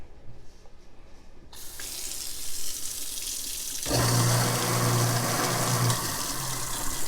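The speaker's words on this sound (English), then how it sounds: "let me run some water and see if it works" Water gushes steadily from a tap into a sink fitted with an InSinkErator garbage disposal, a continuous splashing rush that grows fuller and louder partway through, with a low hum underneath.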